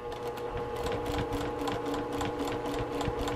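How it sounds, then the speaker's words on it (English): A sewing machine stitches binding onto a quilt, its needle pounding out a fast, steady mechanical rhythm up close with a constant motor hum underneath. "my needle will follow along to where my fingers are"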